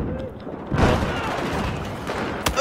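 Battlefield 4 gunfire on the Zavod 311 map in team deathmatch: a burst of booming shots erupts midway and sustains, with a sharp crack near the end, amid chaotic battlefield noise.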